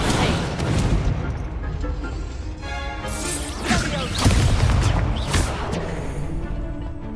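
Spell blasts of the Incendio fire charm in Hogwarts Legacy, a series of loud booming bursts and crackling impacts over a busy combat mix with voices speaking throughout.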